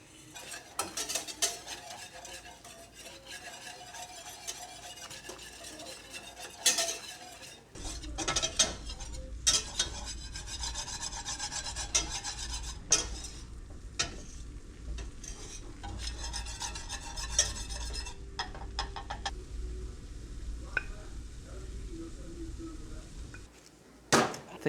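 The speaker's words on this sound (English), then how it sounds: "It's just gonna be the melted butter and flour. And we're just gonna mix it." Melted butter and flour stirred together in a pan, giving repeated scraping and clicking utensil sounds over a soft sizzle, with busier continuous stirring through the middle stretch and no talking.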